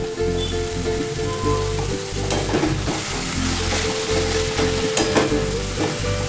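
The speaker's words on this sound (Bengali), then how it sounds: "একদম ড্রাই ভাজা ভাজা করব।" Cabbage filling seasoned with garam masala dry-frying in a pan, giving a loud, continuous close-up sizzle with scattered stirring scrapes and clinks.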